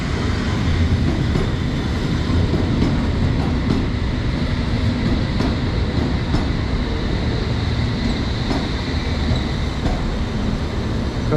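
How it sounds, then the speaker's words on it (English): A London Underground Metropolitan Line train bound for Amersham rumbles into a station with a steady, loud mechanical roar that holds for over ten seconds, no voices present. "arriving in now is the Metropolitan Line train to Amersham"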